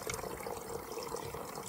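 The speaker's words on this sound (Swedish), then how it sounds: "Och det börjar rinna direkt. Bra flöde i filtret." Clean tap water running through a portable water filter, a soft, steady trickling flow at low level throughout.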